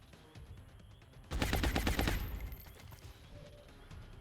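A short burst of rapid automatic gunfire in XCOM: Enemy Within, a tactical alien-combat game, cracks out loudly for about a second over quiet background ambience, then fades into a soft tail.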